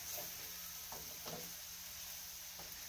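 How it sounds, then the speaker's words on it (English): Chicken pieces browning on low heat in a pan for curry, a soft steady sizzle with a few faint stirring knocks, close and quiet. "we're not cooking the chicken, we're just browning it"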